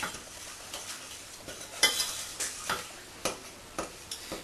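A spoon stirring melting sugar in a pan for chocolate coconut flapjack, with a steady soft sizzle broken by repeated scraping strokes at an uneven, unhurried pace, close and fairly loud.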